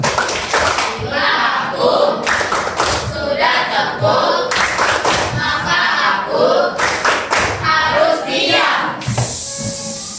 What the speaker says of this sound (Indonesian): Tepuk diam.